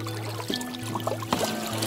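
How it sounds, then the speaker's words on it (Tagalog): Water poured from a container during water-fetching at a well or tap on a thirsty island community, a soft continuous trickle and splash close by with a steady low hum underneath. "Dito nag-iigib ng tubig si Tatay Rosibal."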